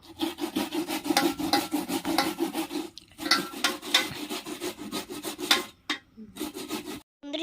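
Pieces of pumpkin are rubbed and grated against a metal plate, giving a close, loud, rhythmic rasping scrape in quick repeated strokes with a few short pauses and no speech.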